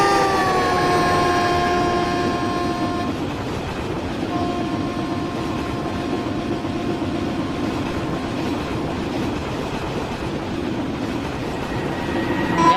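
A passing train on rails, loud and close throughout, with a steady rumbling roll and a drawn-out horn-like tone at the start that fades by about three seconds.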